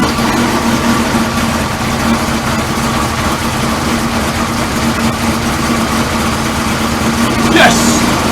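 A Suzuki GSX-R 1000 streetfighter motorcycle engine idles steadily with a low droning hum throughout, fairly loud and close, with a brief higher-pitched blip near the end.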